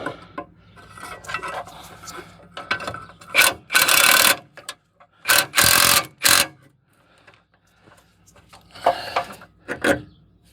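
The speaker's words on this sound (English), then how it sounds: "I'm going to tighten up the anti-roll bar mounting first." Anti-roll bar mounting on a Peugeot J5 van being tightened, heard as bursts of rapid ratcheting and whirring from a power tool, several loud runs separated by quieter clinks of metal tools.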